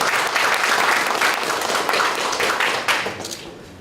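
An audience applauds to welcome a guest lecturer at a Lions club district training session in Korea, dense steady clapping that fades slightly toward the end.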